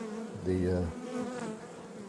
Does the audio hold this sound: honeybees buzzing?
yes